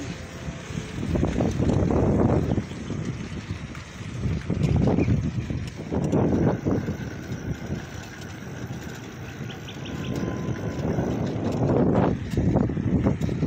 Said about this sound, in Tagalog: Press na press ang hangin.